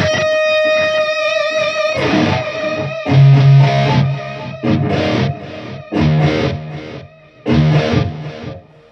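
An electric guitar played through an Axe-Fx processor with a spillover trailing delay: a sustained distorted chord gives way to loud, chopped rhythm stabs, each note echoing on and trailing off between hits.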